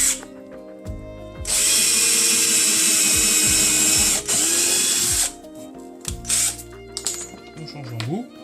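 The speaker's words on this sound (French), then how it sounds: "on perce un avant-trou." A power drill bores a pilot hole in wood, whirring loudly in a long sustained burst with brief interruptions, then shorter stop-start runs. A voice speaks quietly between and under the drilling.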